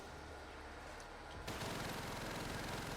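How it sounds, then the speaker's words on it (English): Mounted machine gun in Black Ops 3 Zombies on the Gorod Krovi (Stalingrad) map, firing at zombies: after a quiet start, a dense continuous burst of rapid fire kicks in halfway and runs loud to the end. "I'm going to shoot the zombies from this window, using the mounted MG"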